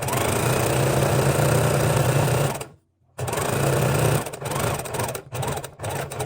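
A sewing machine stitches pieces of a pinwheel quilt block in a steady, loud, rapid whir. It stops briefly, then restarts and runs in shorter uneven bursts.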